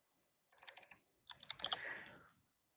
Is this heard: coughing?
no